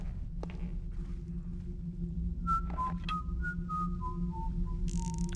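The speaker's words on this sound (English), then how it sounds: "There's also someone whistling." A distant guard in the video game Thief Gold whistles a slow, meandering tune of sustained notes over a low steady hum, with soft footsteps and occasional clicks.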